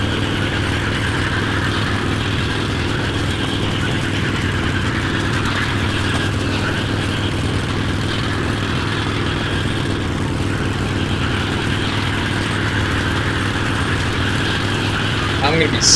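A vehicle engine drones steadily while driving in Metro: Last Light, a continuous loud mid-pitched rumble with no breaks for the full duration.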